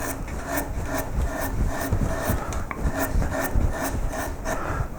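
A hand tool carves wood away from the head of a wooden koi carp carving, producing close, steady scraping and rasping strokes in a quick repeating rhythm, with no talking.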